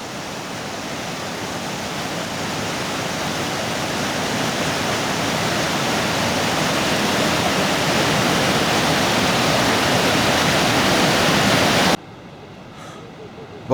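River rapids and cascades rushing, a loud broad continuous roar of whitewater that builds slightly before cutting off abruptly near the end.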